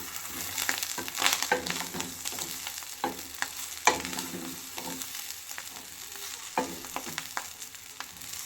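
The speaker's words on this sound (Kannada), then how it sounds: "ಇವಾಗ ಇದನ್ನು ಕ್ಲೀನಾಗಿ ಮಿಕ್ಸ್ ಮಾಡ್ಕೋಬೇಕು ಚೆನ್ನಾಗಿ" Egg rice being stirred and fried in a pan with soy sauce and vinegar, steady sizzling with irregular scraping and clattering strokes of the spatula, close and clear with no talk.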